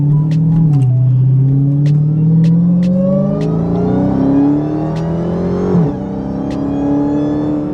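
A Hellcat car engine revs up steadily, its pitch climbing through the gears with a shift midway, loud and close, rumbling with occasional sharp clicks.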